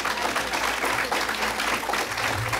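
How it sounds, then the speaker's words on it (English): Brief, steady clapping from a crowd at a congressional campaign rally, honoring law enforcement and the military, dense and even throughout with no clear voices. "yeah, you can clap for these guys."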